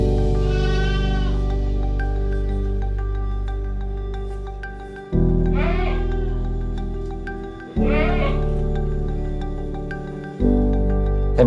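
Peranakan Etawa (PE) contest goats on a breeding farm give several loud, wavering bleats at intervals, each standing out clearly over a sustained tonal background hum.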